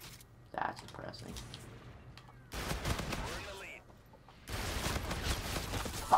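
Video game gunshots crackle in two sustained volleys of rapid fire, loud and close, with quieter stretches and talking in between.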